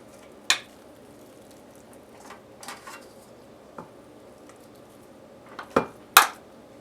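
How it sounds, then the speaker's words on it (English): A large spoon scraping and clanking as meat loaf mixture with carrot is packed into a loaf mold, giving a few sharp metallic knocks spread apart, with a cluster of louder clatters near the end and no talk. "Use this large spoon to put it into the mold"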